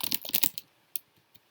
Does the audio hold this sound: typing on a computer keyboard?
yes